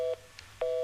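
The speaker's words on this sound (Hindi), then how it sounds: "फोन कट गया" A telephone disconnect tone sounds as steady, loud electronic beeps, two clear pulses separated by a short gap, alone with no talk.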